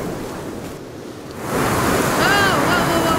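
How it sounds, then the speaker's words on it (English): Wind in the survival game Sons of The Forest starts as a low, hollow whoosh, then gusts up sharply halfway through into a loud, sustained roar with a faint whistling edge. "Jesus, this wind. Why is it so windy?"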